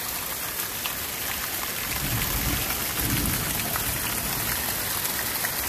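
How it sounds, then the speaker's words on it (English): Steady rain falls outdoors beside a houseboat, a dense, even patter on surfaces with no pauses, moderately loud and close, with no voices. "Always rains when I work on the boat."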